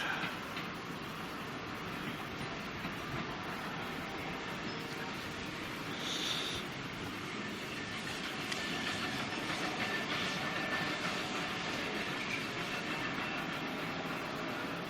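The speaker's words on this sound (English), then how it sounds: "there comes a train at 11:20" A train on the West Somerset Railway rumbles steadily in the distance for the whole stretch, a continuous low mechanical roar with faint rattling over outdoor ambience.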